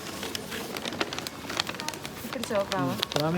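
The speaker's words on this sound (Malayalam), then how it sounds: "നല്ല മഴയാണ്" Steady rain patters loudly throughout while people talk over it, with some sharper splashes mixed in.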